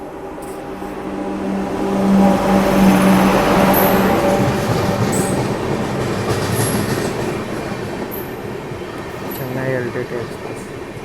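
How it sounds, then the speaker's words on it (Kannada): A Chennai–LTT superfast express overtaking the Bengaluru Rajdhani produces a loud rolling rumble that swells early, then settles into a steady roar with rhythmic wheel clatter and faint high squeals, heard close from alongside the track. "Chennai LTT super fast express overtaking Rajdhani."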